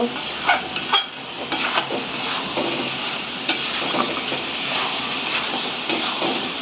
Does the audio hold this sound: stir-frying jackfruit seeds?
yes